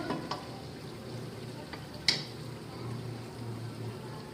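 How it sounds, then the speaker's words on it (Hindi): Ginger and garlic fry in a pan while palak gosht is cooked, giving a soft, steady sizzle with a few light clinks and taps of stirring scattered through it. "अदरक लहसुन डालकर मैंने थोड़ा भून लिया है इसको"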